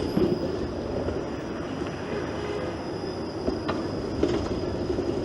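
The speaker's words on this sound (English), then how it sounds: "It's that streetcar operator has to manually switch over the track there." A Toronto streetcar rolls past in Greektown over a manually switched track, a steady near rumble of wheels on rail with faint squeals and a few soft clicks, heard outdoors without speech.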